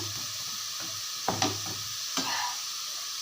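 Onions fry well browned in a pan with a continuous even sizzle, broken by a few soft spatula clinks and scrapes, and no talking.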